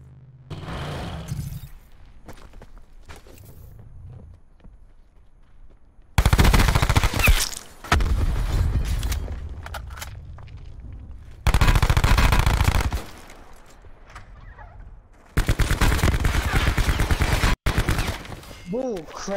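Bursts of automatic gunfire in Call of Duty, played under a no-attachments rule, come in three loud blocks of several seconds each, separated by quieter stretches of game sound and talk.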